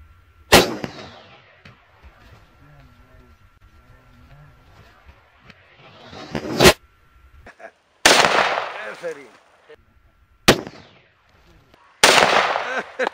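An AK-47 rifle in 7.62 caliber fires five loud, sharp single shots at irregular intervals, each with a ringing echo tail and quiet gaps between them.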